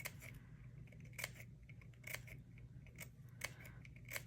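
Crisp scissor snips cutting paper feathers close by, a handful spaced irregularly over a quiet room hum, each a sharp bright click with no talking.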